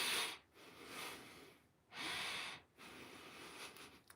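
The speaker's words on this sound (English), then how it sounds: "Some people breathe like this." A person demonstrates a breathing pattern, drawing three slow, audible breaths with short pauses between them. The breathing is close and soft, and no one speaks.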